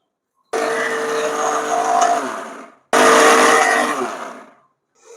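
A mixer grinder whirs through mint chutney with tamarind in two loud, close bursts, the first about two seconds and the second slightly shorter after a brief pause, each ending in a quick wind-down.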